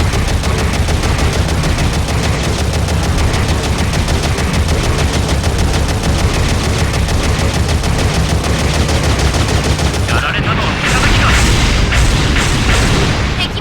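Sustained, loud machine-gun fire and booming cannon shots from mobile suits in a Gundam battle game, rattling continuously for about ten seconds before a brief drop and a final burst of blasts.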